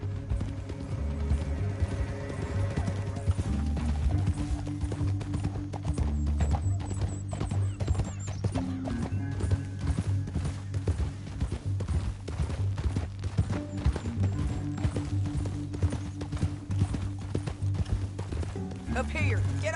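Rapid hoofbeats of galloping horses in Red Dead Redemption 2 run steadily beneath a low droning score, with a voice talking over them at times.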